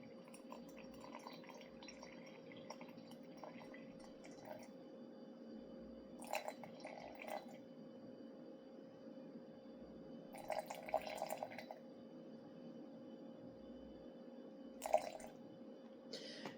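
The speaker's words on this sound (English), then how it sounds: "We're going to pour in 100 grams of water." Water is poured into flour for a sourdough starter, heard as faint, intermittent trickles and splashes over a quiet background hum.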